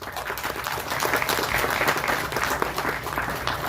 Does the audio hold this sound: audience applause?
yes